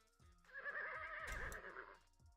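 A horse gives one loud, wavering whinny in a video game. The call rises sharply and then trembles for about a second and a half before it cuts off.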